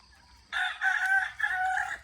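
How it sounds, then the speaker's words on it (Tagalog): A rooster crows on a farm in the early morning, a single loud, close call of about a second and a half that rises from near silence. "So, yun yung mga manok."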